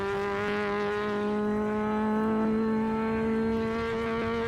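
Porsche race car in Assetto Corsa holding a steady high-revving engine note at the Nordschleife, a sustained harmonic drone without breaks, loud and close with no talk.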